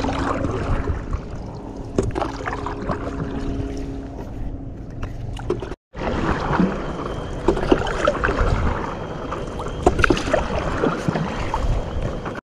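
Paddleboard strokes on an open lake, with a steady wash of water splashing and gurgling around the board and paddle, plus wind, continuous for about twelve seconds and broken by one brief gap midway.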